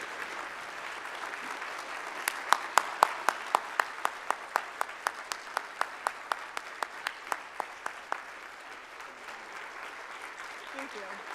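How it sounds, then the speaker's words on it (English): An audience at a physics congress plenary gives a standing ovation: dense crowd applause runs throughout, with one close clapper beating a quick, regular rhythm above the rest. "Let's give her a standing ovation, everybody. Round of applause."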